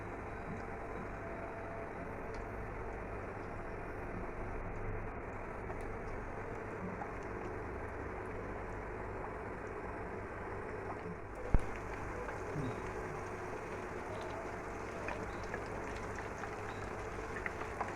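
Potato and flour pieces deep-frying in soybean oil in a home kitchen wok, a steady dense sizzle and crackle running continuously at an even level, with a brief soft clunk partway through.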